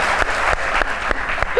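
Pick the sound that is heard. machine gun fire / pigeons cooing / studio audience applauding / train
studio audience applauding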